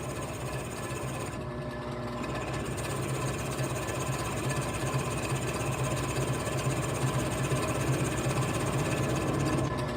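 A power drill bores into a bowling ball with an epoxy-filled hole in a workshop, a loud continuous motor whine with a fast rattling vibration that holds steady.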